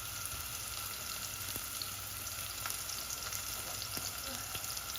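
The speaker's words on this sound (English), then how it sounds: "Have your onions in there. Okay, quick fry." Onions fry in a pan as part of making chakalaka, giving a quiet, steady sizzle and crackle that continues evenly with no talking.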